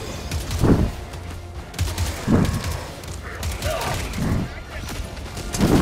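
An enemy cannon turret in Helldivers 2 fires heavy, booming blasts, about four loud shots spaced over a few seconds, mixed with other battle noise.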